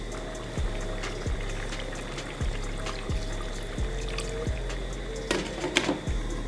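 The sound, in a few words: water poured into cooking pot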